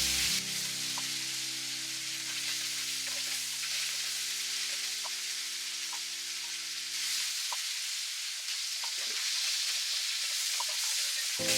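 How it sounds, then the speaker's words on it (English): Cajun sausage sizzling steadily in a skillet, a constant close frying hiss with occasional scrapes and clicks of stirring, no voices. "Let's just keep stirring them until they get light brown"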